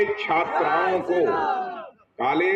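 A crowd at an election rally chants slogans in loud, ragged unison, with several bursts of voices, a brief drop to silence, then the chanting resumes.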